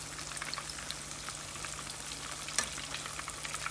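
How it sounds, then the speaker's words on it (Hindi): Crispy chicken pieces shallow-fry in oil, giving a steady, fairly quiet sizzle with scattered crackles and pops throughout, and no voices. "ज़्यादा नहीं पकाना, हमने शैलो फ्राई करना है,"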